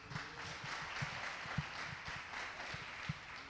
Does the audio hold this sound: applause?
yes